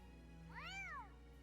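A cat meows once in the Fire Emblem Three Houses video game, a single clear, rising-then-falling call lasting under a second over a quiet, steady hum, with no talking.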